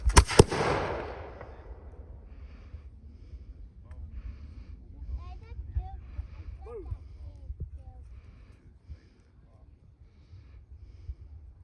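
A Revolutionary War smoothbore musket fires one sharp, loud, close report that rolls away in a long fading echo, followed by faint scattered voices and small noises outdoors.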